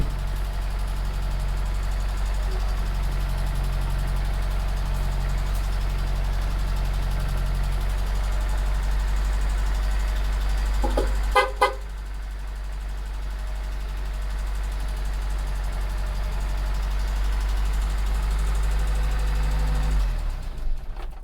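An Austin Allegro 1500 Special's engine runs at a steady loud idle, a deep throbbing drone, with a brief mechanical rattle midway before it settles back to the same even idle.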